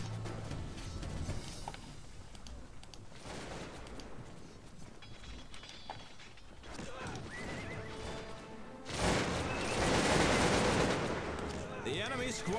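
A Cossacks II battle plays out with gunfire crackling amid horses neighing and hooves clip-clopping, building to a loud burst of cannon and musket fire near the end.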